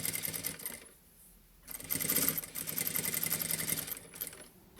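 A sewing machine stitches in the ditch along the waistband of thin-fabric trousers, with bursts of rapid mechanical whirring broken by brief pauses, heard close and alone.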